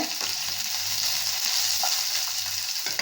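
Sliced onions and curry leaves sauté in a pan for a chicken varuval, a dense, even sizzle heard close up with a low steady hum beneath and a few soft stirring clicks.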